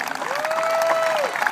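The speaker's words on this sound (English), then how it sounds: "Give them a round of applause, ladies and gentlemen." Audience applause for a 1982 state championship team at a ceremony; a sustained burst of clapping from a crowd, with a sustained tone rising and holding above it.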